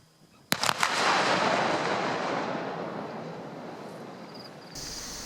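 Bulk explosives detonated at a former US ordnance depot: a sharp, loud blast with a few quick cracks, then a long rumbling roar that slowly fades over several seconds.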